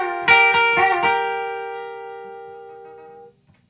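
An electric guitar plays a closing riff: a few quick strummed chord hits, then one chord left ringing and slowly decaying for about three seconds before it is cut off.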